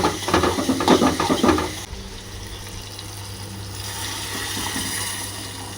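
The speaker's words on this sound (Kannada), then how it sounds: "ನೋಡಿ ಗಾಯ್ಸ್, ಕುದಿ ಬಂತು." Water bubbling and churning in a pot on the boil for Maggi noodles, a lively gurgling burst at first that settles into a softer, steady simmering hiss.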